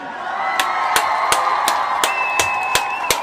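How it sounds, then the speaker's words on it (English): A crowd at a community Kwanzaa Kujichagulia event cheers and claps, with a steady roar of voices and whoops under a series of sharp, evenly spaced claps close by. "We want to give the Kujichagulia babies once again a round of applause."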